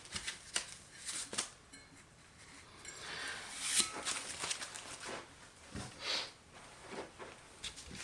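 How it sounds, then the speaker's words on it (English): Small foam packing pieces being pulled out of the side heat sinks of a Galion TS A75 power amplifier, giving quiet, close, irregular scratchy rustles and soft squeaks with no talking. "we're going to get all these little foam things out of the heat sinks here on the side"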